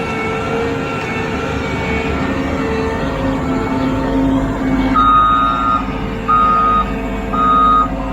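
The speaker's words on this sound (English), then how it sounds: "that sheep's foot does vibration as well as it's just super heavy" Heavy sheep's foot compactor roller working soil, a loud steady diesel drone and low vibrating rumble up close, with repeated backup beeps sounding in short bursts over the engine.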